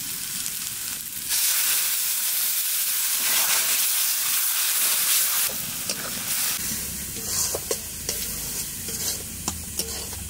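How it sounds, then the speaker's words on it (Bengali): Ground turmeric, cumin, coriander and chili powder sizzle and fry in hot ghee, a loud steady crackling hiss with stirring scrapes building partway through and lasting throughout. "মশলাটা কষিয়ে নিয়েছি"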